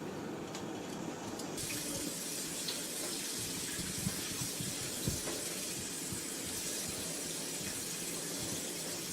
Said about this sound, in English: Now we're going to put the noodles in cold running water.